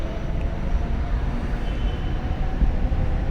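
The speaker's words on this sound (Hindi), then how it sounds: "ये मेट्रो जा रही है ऊपर" A metro train rumbles past on an elevated track overhead outside a Greater Noida government office, a steady loud low roar with rattling that holds for several seconds without talk.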